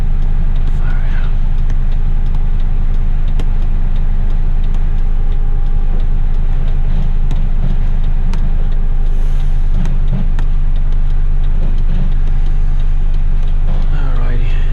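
A truck drives along a European road, its engine a loud, steady low drone inside the cab, while someone talks over it.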